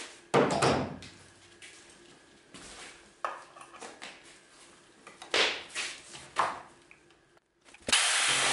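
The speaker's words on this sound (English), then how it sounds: "so I had to cut a notch out of this plate. No project is finished as long as you haven't used your jigsaw" A jigsaw cuts a notch out of a wooden plate in a small workshop, giving several loud, close bursts of buzzing sawing separated by quieter gaps and handling knocks.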